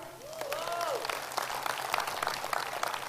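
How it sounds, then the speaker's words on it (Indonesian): Audience at a Riway leadership training meeting clapping in a brisk, crackling burst, with voices and a brief sung or whooping tone rising over the applause. "Tepuk tangan untuk Indonesia."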